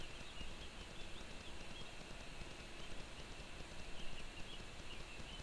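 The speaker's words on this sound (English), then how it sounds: "My guy sounds like a horse when he runs." A Cube World video game character runs with hoof-like footsteps, a continuous rapid clip-clop patter under a dense, steady game soundscape.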